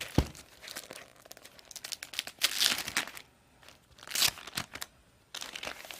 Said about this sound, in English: I'm sorry if unwrapping these gifts is really loud